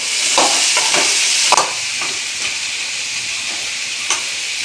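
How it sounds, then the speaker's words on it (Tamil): Radish sizzles in a pan, with a bright frying hiss throughout and a few scraping stirs, loudest at the start and easing slightly, heard up close without speech. "அது வதங்கிய பிறகு முள்ளங்கியை சேர்த்துக்கிறோம்."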